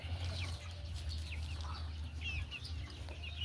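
Chickens in a small backyard coop clucking and chirping over a steady low hum, with several short overlapping calls at moderate distance and no talk.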